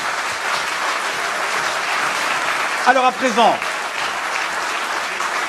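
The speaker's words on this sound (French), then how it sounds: "On applaudit André Brasseur." Audience applauding André Brasseur at a ceremony, a dense, steady wash of clapping from a room full of people, with a voice briefly speaking over it near the middle.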